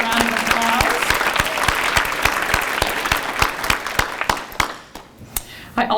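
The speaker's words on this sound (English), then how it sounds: "Can we give them a quick round of applause?" Audience applause at a food bank recognition ceremony in Cleveland: dense sustained clapping from a crowd that thins into scattered individual claps and fades out near the end.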